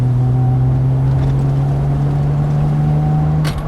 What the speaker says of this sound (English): lovely straight 6 rasp here